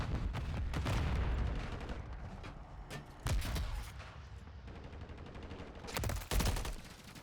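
Rapid bursts of gunfire and explosions in a competitive esports video game match, dense volleys rising and falling with loud sharp cracks, a heavy pause around the middle, then fresh intense bursts near the end.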